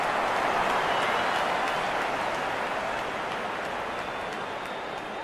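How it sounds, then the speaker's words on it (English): Steady crowd applause in the cricket video game Real Cricket 22, celebrating a batsman's fifty, with a continuous wash of clapping that fades slightly toward the end, no voices standing out. "Wonderful 50 and the crowd applauds."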